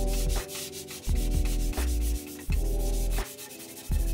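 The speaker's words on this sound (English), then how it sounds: "I'm starting with a red Scotch-Brite pad. This does quite a lot of the heavy rust removal with the addition of a bit of WD-40." A red Scotch-Brite pad with WD-40 scrubs heavy rust off a bandsaw or planer thicknesser machine table in repeated loud back-and-forth strokes, each rasping pass broken by brief pauses, with no talking.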